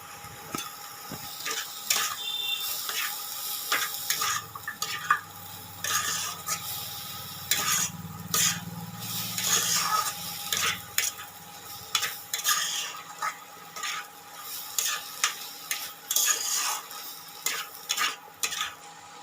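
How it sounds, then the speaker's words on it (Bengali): Mustard paste being stirred into a sour banana flower curry in a pan, with steady scraping and stirring strokes over a soft sizzle, close and continuous with no talking. "সর্ষে বাটা দিয়ে দিচ্ছি।"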